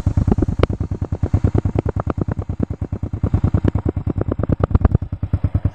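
A motorcycle fitted with an upgraded exhaust pipe idles loudly and close by, giving a fast, even train of sharp popping exhaust pulses with a few harder blips, and no one speaking.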